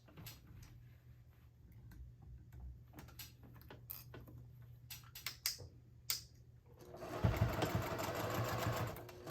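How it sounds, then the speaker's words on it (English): Sewing machine stitching the opening of a fabric color-block wristlet closed, preceded by scattered clicks and handling taps, then a steady close mechanical whir for the last couple of seconds. "So right where the opening starts and stops, you're going to stitch that closed."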